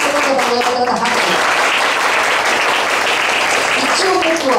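Loud audience applause at a Japanese comedy competition, many hands clapping steadily throughout with a brief voice at the start and end.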